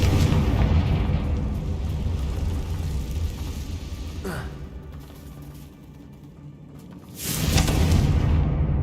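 Confringo fire spell exploding in the game Hogwarts Legacy, a loud rumbling blast that fades mid-clip before a second burst hits near the end.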